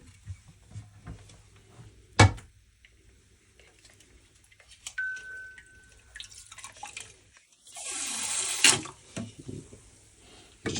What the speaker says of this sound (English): Next step is we're going to siphon the water out.